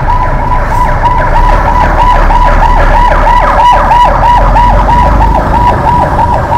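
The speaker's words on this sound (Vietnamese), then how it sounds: "Đó, xe cứu thương." Ambulance siren wailing loudly and continuously on a Saigon street, its rising and falling tone cycling steadily over a low rumble of city traffic, close by.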